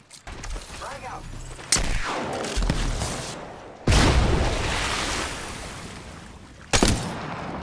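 Loud blasts and explosive booms from a first-person battle royale shooter game, with a strong hit near the start, another mid-clip and a third near the end, each trailing into a rumbling wash of noise.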